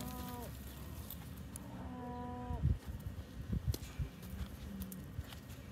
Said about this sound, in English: Those cows up there have been really vocal.